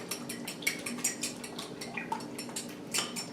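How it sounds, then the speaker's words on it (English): A utensil stirring beaten eggs and lemon juice together in a bowl, rapid light clinks and scraping taps repeating quickly, close and fairly quiet. "I've already put my eggs and my lemon juice together, so I'm going to stir that up"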